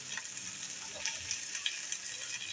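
Hilsa fish pieces in a hot pan with cabbage are stirred, a steady close sizzle of frying with scraping clicks from the utensil, no talking.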